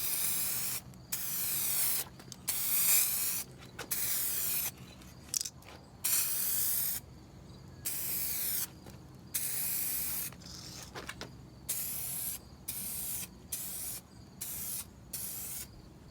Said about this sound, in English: we're going to apply a medium coat. And again, we're going to hold the can about 6 to 8 inches away from the headlight